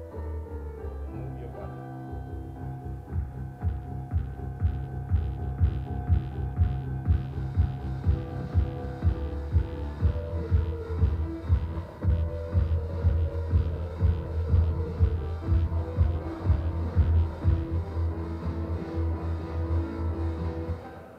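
A famous electronic house track plays at steady volume, a throbbing bass-heavy pulse with a regular beat that grows denser and brighter after the first few seconds and keeps going throughout.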